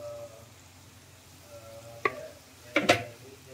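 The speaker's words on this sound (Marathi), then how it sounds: "आणि चांगलं मिक्स करून घ्यायचं" A radish dish with ground peanuts is mixed in the pan: a faint, low sizzle runs under a few short, scraping spatula strokes near the end.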